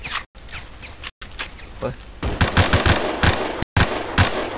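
Rapid automatic gunfire bursts from the first-person shooter game Phantom Forces, loud and close, with a steady stream of repeated shots growing denser in the second half while a player talks over it.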